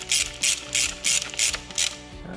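A ratchet winds a tight bolt back in on a drift car during off-season repairs. Six evenly spaced bursts of fast clicking pawl sound up close, each followed by a brief pause, with no talking.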